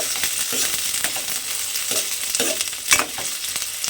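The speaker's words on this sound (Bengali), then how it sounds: "এইভাবে পেঁয়াজটাও কিন্তু আমি এখানে লাল করে ভেজে নেব।" Onions fry in hot oil until reddish-brown for a masoor dal, giving a steady close sizzle broken by repeated scraping stirs, with one louder stir near the end.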